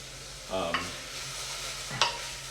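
Risotto being stirred with the back of a spoon, two distinct scraping strokes against the pot over a low simmering sizzle, close and fairly quiet.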